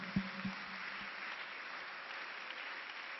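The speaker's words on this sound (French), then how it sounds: "Applaudissons pour le Seigneur." A church congregation applauds at a Sunday service, a steady wash of clapping heard from a distance at low level.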